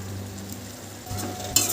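Spices, potatoes and green peas fry in a wok with continuous soft sizzling under scraping stirring strokes, followed by a brief louder utensil clatter near the end.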